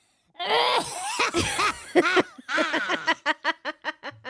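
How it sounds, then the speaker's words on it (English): A voice fakes a cough with a few rough, throaty bursts, then trails into a run of short rhythmic huffs, close and loud. "when I cough, I'll just simulate a cough"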